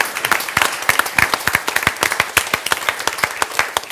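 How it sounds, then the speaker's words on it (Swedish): An audience at a panel discussion about cycling and the film Bikes vs Cars gives its guests a warm round of applause: many close, crisp hand claps in a lively, uneven patter, fairly loud and with no talking over it. "Ska vi ge alla våra gäster en varm applåd för det här?"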